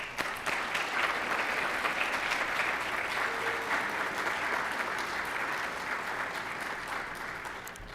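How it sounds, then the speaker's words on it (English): An audience at a student employee of the year award ceremony gives a sustained round of applause, dense and steady, tapering slightly toward the end. "why don't we give them a big round of applause"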